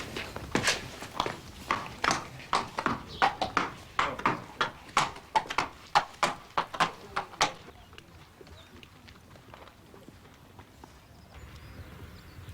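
Rhythmic clip-clop of horse hooves, steady and fairly close for several seconds, then fading away into quiet background.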